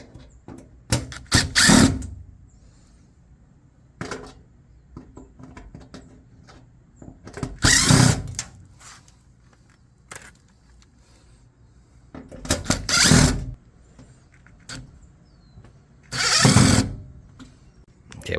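A power drill backs screws out of an LG washer panel in four separate bursts of high whirring, each lasting about a second, close by, with quiet handling clicks and rustles between them.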